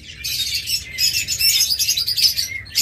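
Lutino Fischer's lovebirds, including a double-factor lutino opaline, chirp in a dense, continuous chatter of high, shrill calls, close by, with no talking.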